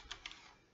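Computer keyboard typing during a Minecraft session, two or three quick soft key clicks close up and faint, then quiet.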